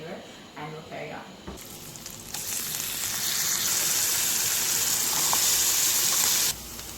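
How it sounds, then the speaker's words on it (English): Onion and garlic sauté in a pan for cottage pie, a steady broad sizzle that starts after a short quiet stretch, swells and holds loudly near the mic, then cuts off abruptly near the end. "what I'm going to do now is add in some onion and garlic, let that saute for a minute or two"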